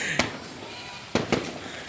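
Fiesta fireworks bursting outdoors, a sharp bang near the start and two more close together about a second later, each a brief broadband crack over a steady background hiss.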